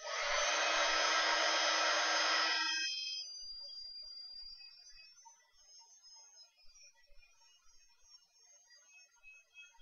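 Hair dryer blowing over a mixed media artwork, loud steady whoosh for under three seconds, then cut off and fading into a faint winding-down whine.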